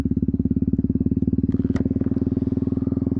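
A Yamaha MT-03 motorcycle engine idles steadily nearby, a rapid, even low-pitched thrum with a couple of faint clicks partway through, heard alone without talk.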